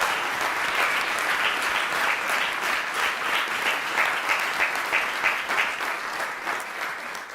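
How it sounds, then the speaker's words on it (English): Sustained audience applause at a live global finals event in the UK, a dense, steady wash of many hands clapping with no voices, holding loud and even throughout. "Please give them a huge round of applause for everything they achieved"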